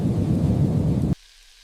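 Heavy rain with a low rumble of thunder, a dense steady roar that stops abruptly, leaving faint quiet.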